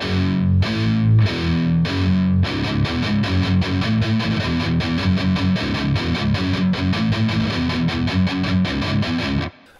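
Distorted electric guitar riff, played loud and alone: a few slower chugs open it, then it shifts into rapid, steady palm-muted picking that runs continuously before stopping abruptly.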